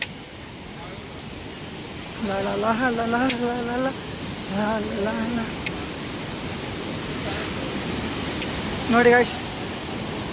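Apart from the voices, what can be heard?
rushing river water on Kedarnath trek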